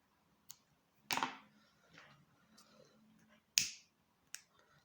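Several sharp, isolated lighter clicks sound close and quiet, spaced irregularly with short faint hisses between them, as the end of a crochet thread is burned.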